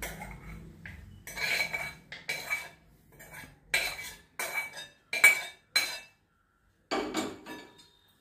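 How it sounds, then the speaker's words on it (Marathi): A metal spoon scrapes and clinks against a dish as tempering is stirred through soaked puffed rice, in a series of short, irregular bursts with brief silent gaps between them. "आता ह्याच्यावरती आपण ही फोडणी घालून घेऊया आणि चांगला हलवून घेऊया"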